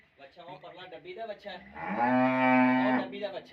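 A cow gives a single long, loud, close moo that swells and fades, with a red calf nearby and no one speaking over it.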